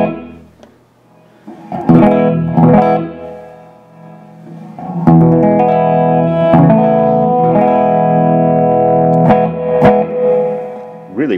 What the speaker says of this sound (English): Here's the reverb.